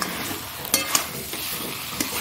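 A potato and bitter gourd curry fries in a pan with a continuous close sizzle, while a spoon stirs it with a few sharp scraping strokes.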